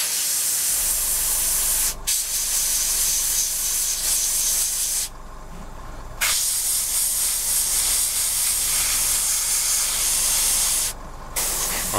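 An airbrush sprays post-shading grime onto a 1/48 scale Tamiya Supermarine Spitfire Mk.I model, giving a loud, close, steady hiss broken by a few short pauses.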